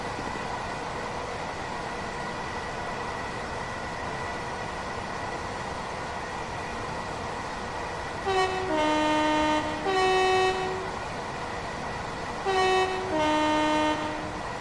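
A Class 377 Electrostar electric train in Train Sim World 6 hums steadily, then sounds its two-tone horn in two loud bursts near the end, each a quick pair of notes.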